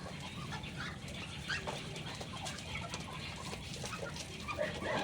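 Laying hens in a coop cluck softly and continuously in the background, with occasional brief calls and faint wing rustles at a low, steady level.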